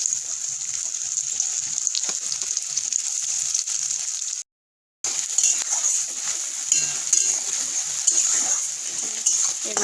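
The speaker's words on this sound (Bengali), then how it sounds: "কড়ার মধ্যে আমি তেল দিয়ে দেবো পরিমাণ মতো। দিয়ে দেবো কুচনো পেঁয়াজ" Chopped onions frying in hot oil in a wok, giving a steady bright sizzle with faint clinks of a utensil, broken by a brief half-second gap of silence midway.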